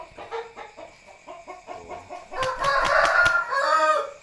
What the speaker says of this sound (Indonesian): Ini ayam ngorok